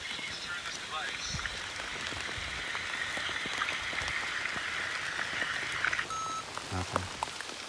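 Steady rain falls outdoors near a manor on Clinton Road, New Jersey, a continuous hiss filling the scene, with a few brief thumps and a short tonal beep near the end.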